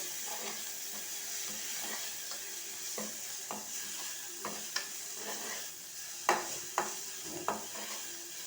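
Bitter gourd slices frying in a pan give a steady close sizzle, with stirring scrapes and clinks from a spoon against the pan that grow sharper toward the end.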